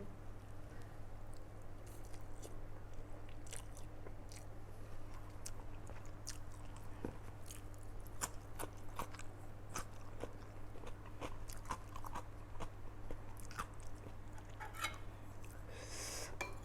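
Someone eating rice noodles with spicy offal soup, with quiet repeated bites and chewing, small crunches and occasional dish and cutlery clinks over a steady low hum.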